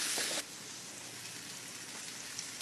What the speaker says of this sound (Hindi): पैन पूरी तरह से गर्म हो गया है। अब हम डाल देंगे पनीर टिक्का